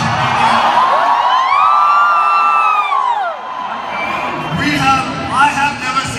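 A large crowd of fans cheers for the actor Akshay Kumar with loud, sustained whoops, shouts and high-pitched yells that swell and then ease slightly.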